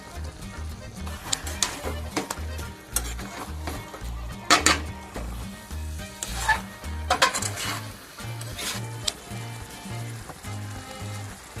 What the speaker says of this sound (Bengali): এবার আমরা এটাকে ভালো করে নাড়বো নেড়ে চেড়ে ভালো করে কষাবো যাতে না লেগে যায়